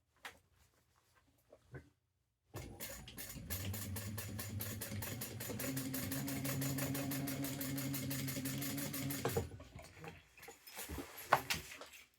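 A sewing machine top stitching a bag runs in a steady rapid mechanical whir for several seconds, preceded and followed by quiet handling clicks.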